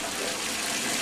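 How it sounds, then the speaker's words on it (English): A little boy splashes and sloshes water in a bath, making a continuous close watery wash with no clear pauses. "Splash the water."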